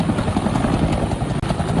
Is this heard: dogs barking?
no